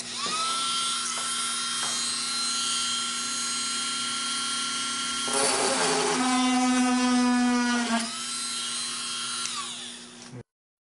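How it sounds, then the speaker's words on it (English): A drill running at low speed bores into a chip in a car windshield, giving a steady, close, high-pitched whine for about ten seconds. Its pitch shifts midway as the bit bites, then it stops abruptly. "Utilize the low speed on your drill to create an access point at the center of the brake."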